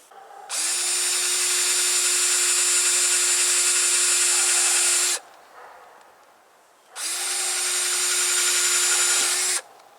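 A handheld power drill whines steadily at close range in two long bursts, with a short quiet pause between them, while drilling for a well project.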